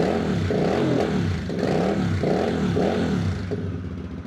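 A VOGE CU 625 cruiser motorcycle engine revs through twin exhausts with a throaty sound, rising and falling in repeated throttle blips, loud and close with no talk.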